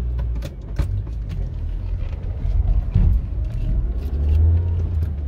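A car pulls away and drives off slowly at about 20 km/h, a steady low engine rumble that swells slightly as it moves, heard close from inside with no talk.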